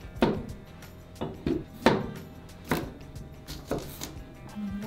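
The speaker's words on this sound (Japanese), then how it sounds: "じゃ、きゅうりとアボカドも切っとこうかな。" A knife chops cucumber and avocado on a cutting board at home for ehomaki sushi rolls, giving about six distinct, moderately loud thunks at an uneven, unhurried pace, close by and with no talk over them.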